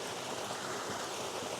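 A small creek spills below a log lying across the water, a steady close hiss of falling water without pause or voices.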